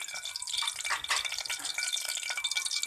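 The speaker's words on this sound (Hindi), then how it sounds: "बिस्मिल्लाहिर्रहमानिर्रहीम के साथ थोड़ा सा भून लूँगी" Raw green mango pieces fry in a wok with nigella seeds, giving a bright, continuous crackling sizzle with soft stirring, close and steady throughout, no talking.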